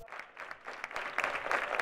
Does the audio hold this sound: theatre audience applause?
yes